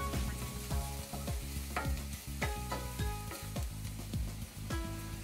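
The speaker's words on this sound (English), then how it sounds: "Now stir fry the onion for 2 minutes. Add garlic, cook until fragrant." Onion and garlic stir frying in a pan, with a steady sizzle and repeated sharp scrapes and clatters of a utensil stirring, close and clear with no talking.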